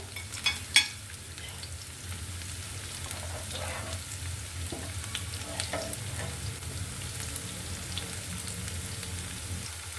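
Chopped onions and minced garlic fry in oil with a steady, moderate sizzle and crackle throughout, broken by a couple of brief louder clatters near the start and occasional stirring noises.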